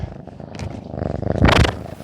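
Close, rumbling purring from kittens with a rhythmic pulse, swelling louder near the end with scratchy rubbing against the microphone.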